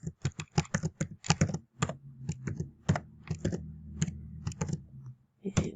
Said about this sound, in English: So I'm going to put my password in now.